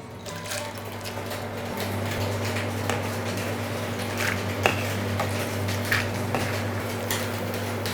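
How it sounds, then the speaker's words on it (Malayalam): Peanuts frying in hot oil in a pan, a steady bubbling hiss with occasional light clinks of a spoon, close and continuous under a low hum. "നമുക്ക് പീനട്ടൊന്ന് വറുത്തെടുക്കാം"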